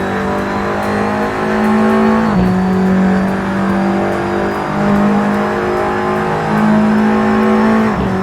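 A car at full throttle on the Nürburgring Nordschleife, its engine droning loud and steady from inside the cabin, with the pitch climbing and dropping sharply at each gear change.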